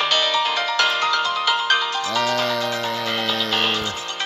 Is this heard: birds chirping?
no